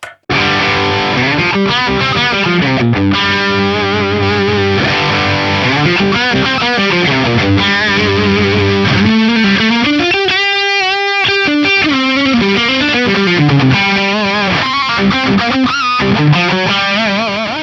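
Heavily distorted electric guitar riffing through a Bogner Ecstasy amp model with a shred boost, saturated high-gain tone, dense chugging and sustained notes, loud and continuous throughout.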